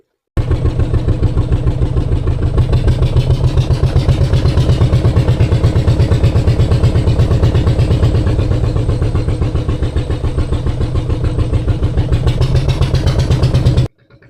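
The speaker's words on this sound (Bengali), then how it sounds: "যতটা ঘন জঙ্গলের মধ্যে দিয়ে নৌকাটা আমাদেরকে নিয়ে যাচ্ছে" A motor boat's engine drones steadily and loudly as the boat runs through a creek in dense jungle toward the Bay of Bengal, a close, even throb that continues without a break until it cuts off near the end.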